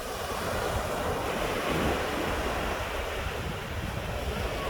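Surf and wind on Tybee Island beach in Georgia, a steady broadband wash of breaking waves with wind rumble across the mic, constant and fairly close, with no voices.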